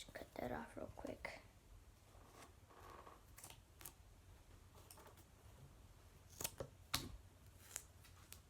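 Scissors snipping hockey stick tape on a blade, several quiet crisp snips and clicks close by, with faint low speech between them.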